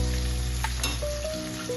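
Capsicum tossed into a hot pan with onion, ginger and garlic for veg fried rice sizzles steadily and close, a dense continuous frying hiss with occasional stirring scrapes and no talking.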